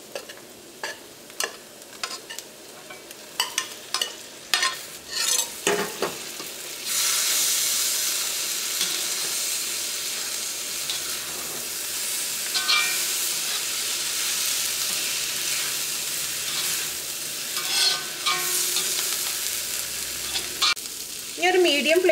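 Cooked beef frying with dried chillies in a pan over a medium flame, a steady close sizzle and hiss after a run of sharp stirring knocks and scrapes, with more clatter near the end.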